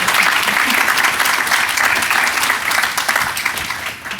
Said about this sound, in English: Let's give them a round of applause for all that.